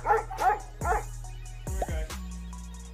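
A Labrador dog gives a few loud close barks and yips, separated by short pauses, with a low steady hum underneath.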